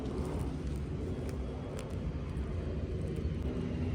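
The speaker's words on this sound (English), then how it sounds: "Most of my videos are gonna have planes in the background because that's where I live." A fixed-wing airplane drones steadily in the background near a home, a continuous low rumble that stays even and fairly faint throughout with no talk over it.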